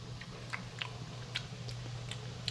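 Close, quiet chewing of pasta noodles dressed in almond pesto, a series of soft wet bites and crunchy clicks in an irregular rhythm over a steady low hum, with no talking.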